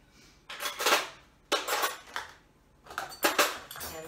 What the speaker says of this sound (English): I'm going to put away this silverware